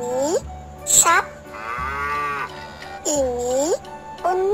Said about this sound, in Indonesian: Ini sapi.